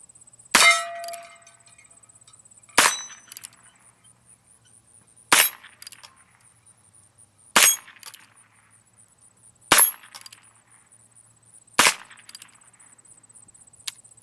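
A Heritage Rough Rider .22lr revolver fires six sharp, loud shots outdoors, spaced about two seconds apart, each a crisp crack with a brief ringing tail.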